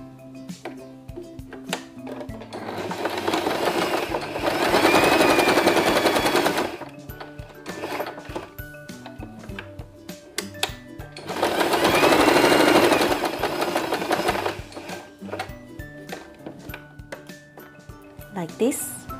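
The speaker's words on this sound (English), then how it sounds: "And I will stitch here. Using regular stitch." A sewing machine stitches fabric for a baby turban in two sustained rapid bursts of mechanical rattling, close and loud, separated by quieter handling noises and clicks while a person talks throughout.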